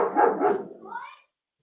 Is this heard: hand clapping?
no